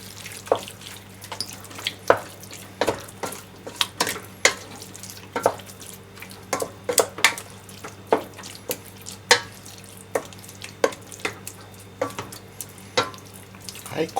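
Tofu and sesame being folded and mixed together in a bowl for shiraae: a close, steady rhythm of soft clacks and squelches as the utensil works the mixture, over a faint background hum.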